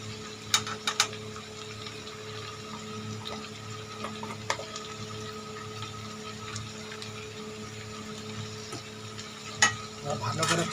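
Spices with red chilli powder sauté in a pan, giving a low steady sizzle with scattered sharp scrapes and clicks of a stirring spoon against the metal, close and fairly quiet throughout.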